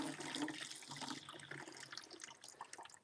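Dirty water mixed with diluted strawberry syrup pours from the upturned quick-pour spout of a Shark StainForce tank, a steady close splashing gush that tapers off over a few seconds.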